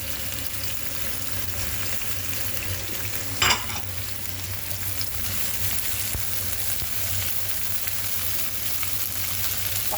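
Onions and colored bell peppers fry in a pan with a steady, even sizzle, plus a brief sharp clink of stirring partway through; close and continuous, no talking.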